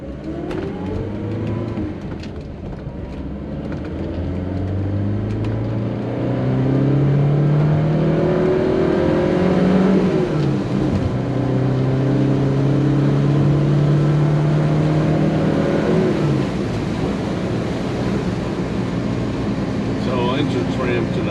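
A 1974 BMW 2002 Tii engine pulls at highway speed with a loud, steady drone whose pitch rises and falls as the car accelerates, heard from inside the cabin.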